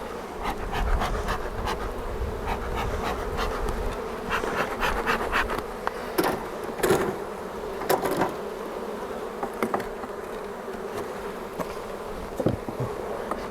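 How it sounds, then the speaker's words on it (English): A wild-caught honeybee hive being opened, dense steady buzzing from many defensive bees close by, with individual bees zipping past the microphone, no talking. "You're still gonna get an aggressive hive, by the way."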